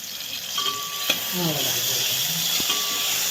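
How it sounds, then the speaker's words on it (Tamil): A goat curry base with green chilies and ginger garlic paste fries in a pan, giving a close, steady sizzle and hiss throughout, broken by a few sharp stirring clatters. "லைட்டாக ஃப்ரை இப்போ கொஞ்சமாக இஞ்சி பூண்டு பேஸ்ட் போட்டுக்கலாம்"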